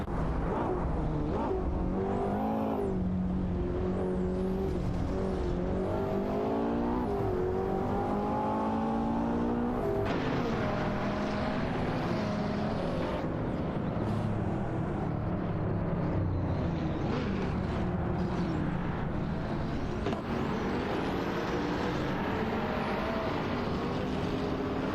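Engines of racing cars in a video game race, including a Mercedes-Benz SL65 AMG, roaring continuously with shifting revs and overlapping passes, loud and dense throughout with no talk.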